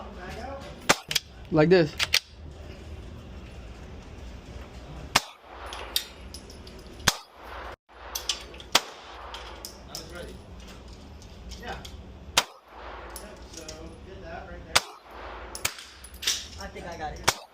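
Sharp gunshots ring out at a shooting range, single spaced reports repeated over several seconds, loud and close, while people talk casually between shots.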